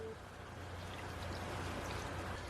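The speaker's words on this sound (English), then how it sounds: "I'm going to add 3/4 of a cup of vegetable broth." Vegetable broth poured into a pot of cabbage and apple, a steady soft liquid stream running continuously and close without pause.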